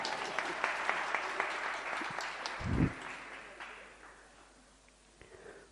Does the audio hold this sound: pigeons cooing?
no